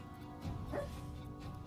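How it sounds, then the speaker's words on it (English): A sleeping dog lets out a muffled bark or woof in its sleep, one short soft yip amid faint background hum, quiet and close. "However, he is barking at some imaginary creature."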